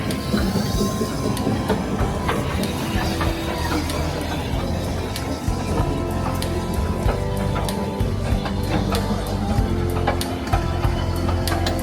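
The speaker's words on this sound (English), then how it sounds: "Here's another train you can travel on" A train rumbles past loudly with a continuous clatter of wheels on track and occasional metallic squeals, steady throughout.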